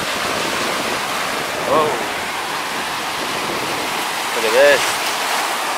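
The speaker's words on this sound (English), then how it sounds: "Water is coming, I better hurry up." Water rushes steadily over rocks nearby, a loud, broad continuous wash that fills the whole stretch while someone speaks briefly twice over it.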